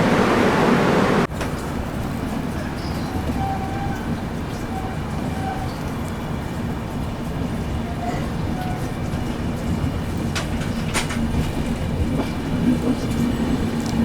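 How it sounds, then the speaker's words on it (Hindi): A passenger train leaving Ayodhya Dham railway station gives a sustained low rumble and rolling clatter, with faint tonal squeals and a few sharp rattles, heard close and continuous with no talk. "तो बाकी दोस्तों अपनी ट्रेन निकल चुके अब अयोध्या धाम रेलवे स्टेशन से भी"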